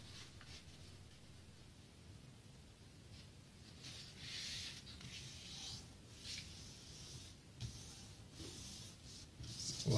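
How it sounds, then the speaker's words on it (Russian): A sheet of plain paper is folded in half lengthwise for an origami tank, giving soft close rubbing and crinkling as the crease is pressed, with a faint rustle toward the end. "складываем пополам в длину"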